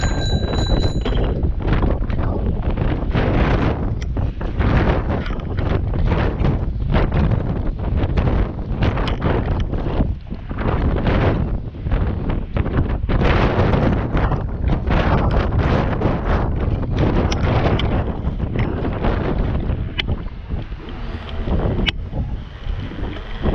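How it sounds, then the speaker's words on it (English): Strong coastal wind buffets the microphone of a bicycle rider on a seaside ride, a continuous loud roaring rumble with gusty surges and no talking. "Wow, that wind was strong."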